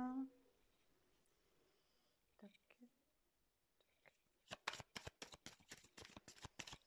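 Tarot cards being shuffled close up, a quick run of crisp riffling flicks following quieter soft handling noises, with someone speaking softly earlier.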